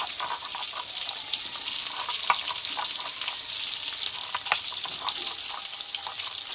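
Pointed gourd sautéing in a pan gives a steady, even frying hiss with scattered light taps and clicks throughout, alone and without talk.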